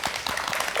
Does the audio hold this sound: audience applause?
yes